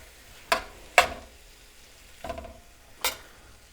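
Rice wine splashed into a hot pan of Thai lemongrass chicken stir fry, giving four or five short, sharp sizzling bursts spaced about a second apart over a quiet background.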